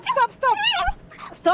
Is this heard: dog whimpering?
yes